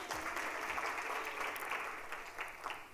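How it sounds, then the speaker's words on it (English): An audience at the Standard Bank EmpowHer women's conference in Durban claps in a sustained, fairly loud round of applause that holds steady for the whole stretch. "A big round of applause."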